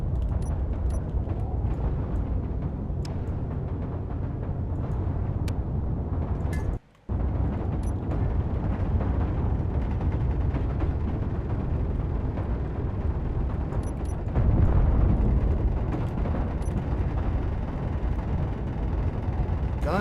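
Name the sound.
gunfire hitting the ship in video game Space Engineers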